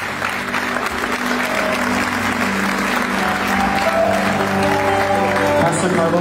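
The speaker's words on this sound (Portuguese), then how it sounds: "Você pode dar uma salva de palmas para Jesus." A congregation at a church prayer meeting breaking into loud, sustained applause, a continuous wash of many hands clapping with voices faintly mixed in.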